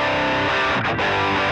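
A distorted electric guitar plays through an Own Hammer 112 Fender Deluxe cabinet impulse response, a loud sustained crunchy chord with a brief dip before ringing on.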